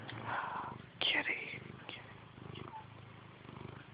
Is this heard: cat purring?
yes